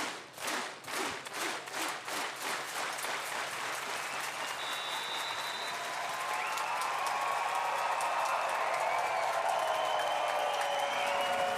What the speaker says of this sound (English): Yet another great crowd here.